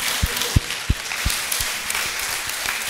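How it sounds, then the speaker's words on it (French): An audience claps in a room, with a few sharp, distinct claps standing out over a broad wash of lighter applause that stays moderately loud throughout. "Et on les applaudit bien fort ici."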